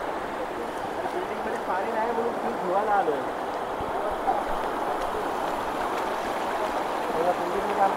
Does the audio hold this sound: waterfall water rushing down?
yes